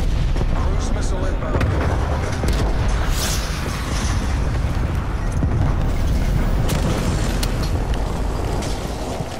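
A cruise missile strike in Call of Duty: Black Ops Cold War, a loud sustained rumbling roar of blasts and crackling debris filling the whole stretch with dense low booming.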